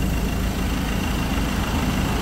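A Ford Everest diesel engine idles smoothly after its injectors were serviced, a close, steady low rumble running evenly throughout with no voices.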